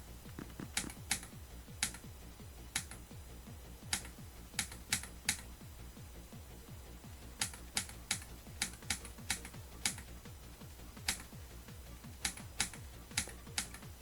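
Computer keyboard keys clatter during platformer play, scattered sharp clicks in bursts and runs of rapid presses with short pauses, close and alone over a low steady hum.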